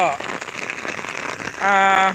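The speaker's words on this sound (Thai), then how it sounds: "ตอนนี้คือฝนถล่มแบบ ถล่มเรียกว่าถล่มกระจุยกระจายนะครับ" Heavy April rain pours down in Pong Haeng, Suan Phueng district, Ratchaburi, Thailand, as a dense, steady hiss. A voice and a brief tonal sound rise near the end.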